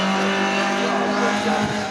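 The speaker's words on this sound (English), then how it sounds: "Lotus Cortina crossing the line now" A Lotus Cortina historic saloon race car at Donington Park, racing in the HSCC pre-1966 series, roars past close by with a loud, rising and falling engine note and a brief tyre squeal.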